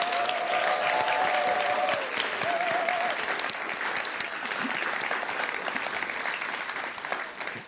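Sustained round of applause from an audience at a Futures in Food Systems event, honoring the participating teams, dense and steady with a few whistles early on before easing slightly toward the end.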